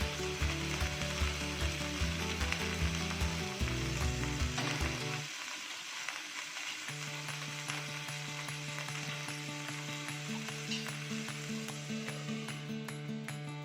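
Tuna fillet frying in a hot pan, a steady close sizzle with stirring scrapes over background music that drops out briefly midway.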